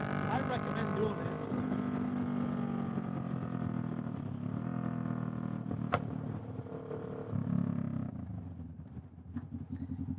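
2018 Kawasaki Vulcan S motorcycle riding along, its engine droning steadily with a low, throaty hum and shifting pitch, under a rider talking throughout.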